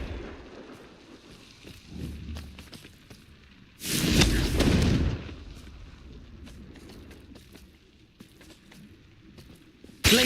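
A fiery Confringo explosion spell bursts in the video game Hogwarts Legacy, one loud roaring blast lasting about a second amid quieter game ambience, followed later by a sharp thump at the very end.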